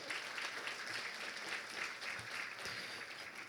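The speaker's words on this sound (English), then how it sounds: "Clap it up one more time for her, please." Guests at a charity luncheon gala keep up a steady round of applause, a broad, even clatter of many hands that is fairly quiet in level and does not let up.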